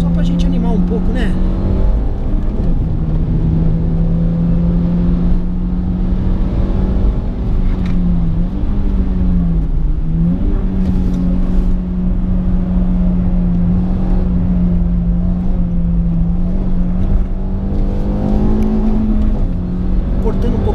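Car engine droning steadily on a technical race track, holding a sustained tone that dips and rises slightly through corners, loud and constant, while someone talks over it throughout.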